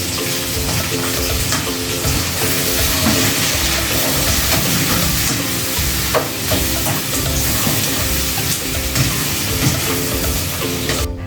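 Shrimp frying in a pan for adobong shrimp while being stirred, a steady loud sizzle with scraping stirs throughout and no talking.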